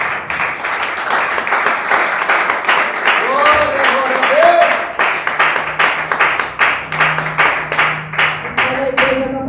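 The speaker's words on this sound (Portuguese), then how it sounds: "e as palmas para o Senhor" A church congregation claps in steady rhythmic unison, with the loud clap train running alongside a singing or speaking voice and a brief held tone near the end.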